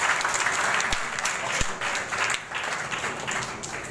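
A crowd at a stage show applauds with steady, dense clapping that swells and eases slightly, a couple of sharp thumps breaking through, with no talk on top.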